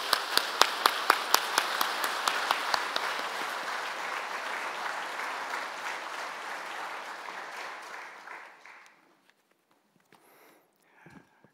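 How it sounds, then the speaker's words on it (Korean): A church congregation gives the senior pastor a warm welcome at a thanksgiving service for an honorary theology doctorate: a few sharp rhythmic claps open into dense applause that fades out over about nine seconds, leaving faint rustles. "우리 담임 목사님께서 축사와 또 찬사에 대한 답사를 해주실 텐데 우리 뜨거운 박수로 맞이해 주시면 감사하겠습니다."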